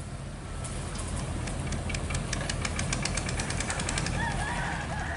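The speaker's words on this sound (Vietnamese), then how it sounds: "có một chiếc xà lan chở cát chở khẩm, chắc là cũng chuẩn bị vào cua" A heavily loaded sand barge on a river nearing a bend, its engine giving a steady, low, knocking throb with a rapid mechanical ticking on top, continuous and moderately loud.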